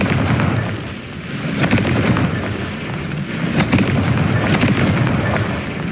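Fire spell explosions and bursts from the Confringo charm in the Hogwarts Legacy video game, several booming pops over a dense, continuous game soundscape, loud and close.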